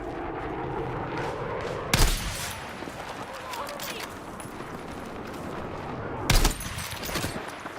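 Gunfire in the video game Battlefield 6: two sharp, loud shots about four seconds apart cut through a dense, busy battle din of distant firing and rumble, with a voice talking over it.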